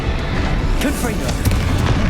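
A Confringo fire spell explodes in the Hogwarts Legacy game, a loud booming blast with rumbling bursts that rolls on briefly, mixed with spoken voices.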